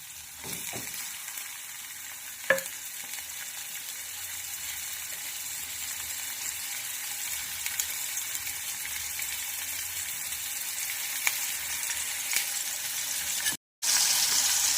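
Onion fries in a pan with a constant close sizzle and crackle, a sharp utensil tap near the start and a brief dropout near the end, no speech.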